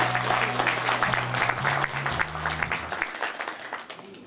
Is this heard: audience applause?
yes